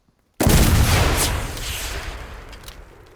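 A HEAT rocket slams into a tank in the video game Enlisted, giving one sudden loud blast followed by a long decaying rumble and debris hiss.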